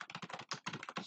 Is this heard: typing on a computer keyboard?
yes